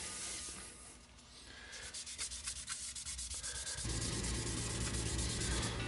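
A wooden guitar body being sanded with 600-grit paper, a steady, close scratchy rubbing that settles into an even back-and-forth rhythm, then a continuous smooth hiss, heard alone.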